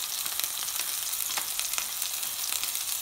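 A cod loin fries steadily in a pan, a close, dense and even sizzle with small crackling pops running throughout and no voices.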